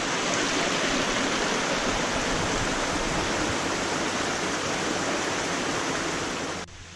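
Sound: spring water flowing on a mountain trail

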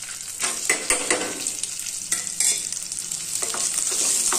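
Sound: ginger, garlic and onion sizzling while frying in oil

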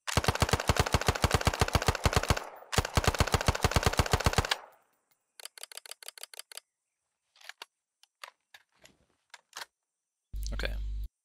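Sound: gunfire in the video game Arma 3

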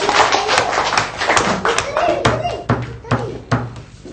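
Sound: group of children clapping hands

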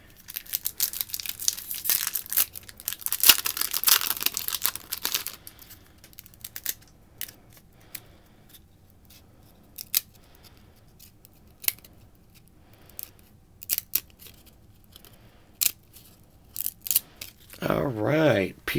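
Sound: tearing open a 1993 Action Packed trading card pack

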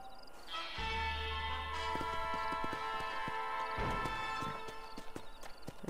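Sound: horse hooves in the video game Red Dead Redemption

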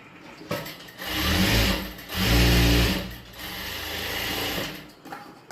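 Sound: sewing machine stitching lining and invisible zip

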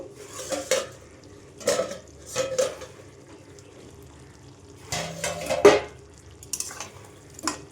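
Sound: lid being taken off a cooking pot

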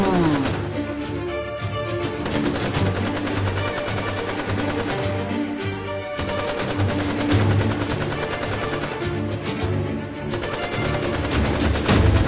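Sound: gunshots in an animated cartoon

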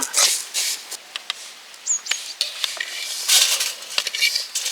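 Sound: stirring and roasting vermicelli in a pan outdoors

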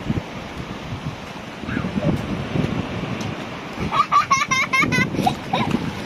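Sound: sea waves washing onto the beach

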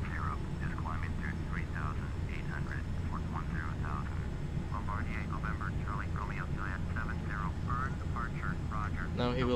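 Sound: aircraft engine in flight simulator video game

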